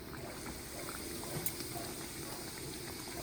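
Fry bread dough sizzles flat in a hot pan of oil, a quiet steady bubbling crackle with small pops, heard alone.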